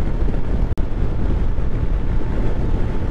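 Strong wind buffeting the microphone in a steady low roar, with one brief dropout partway through, outdoors by a motorbike.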